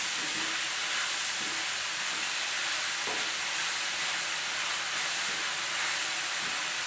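Salted onions for Kerala-style beef curry sizzle steadily in a pan while being stirred, a constant frying hiss with occasional soft scrapes and taps of the spoon, close and without talking.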